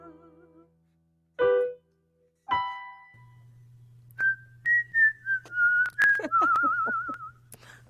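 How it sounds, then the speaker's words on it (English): A clear, melodic whistle carries a wavering tune for a few seconds after some brief vocal sounds, steady hum underneath. "Beautiful whistle."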